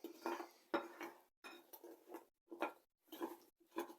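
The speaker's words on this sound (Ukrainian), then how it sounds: "І ми перемішуємо" Honey cookie dough stirred in a bowl, with rhythmic spoon scrapes and light clinks against the bowl repeating roughly every half second, close and quiet.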